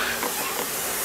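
Car wheels get a close, continuous hiss as degreaser is sprayed evenly over them, one steady burst with no pauses.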